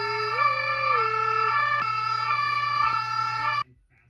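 Brunei's emergency alert system alarm: a loud, continuous electronic tone with a steady hum and a higher pitch that wavers early on, sounding alone for about three and a half seconds before cutting off abruptly.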